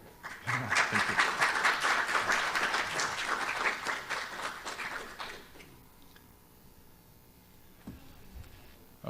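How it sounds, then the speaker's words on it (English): A conference audience applauds the organizers at the closing session of the ISMB 2018 Bio-Ontologies meeting: dense, steady clapping for about five seconds that then thins and fades into a quieter room. "I actually wanted to give a round of applause to Rod and Michelle, or the organizers, for running this."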